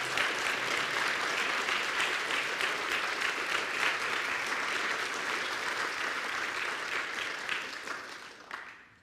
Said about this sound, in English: Can we give a round of applause for the courage of this group to come every year and engage?